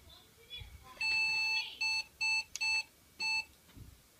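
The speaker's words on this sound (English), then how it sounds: "Beeps mean bad things. That was many beeps." A desktop PC sounds a series of sharp electronic startup error beeps: one long tone followed by several short ones in an uneven pattern against a quiet room.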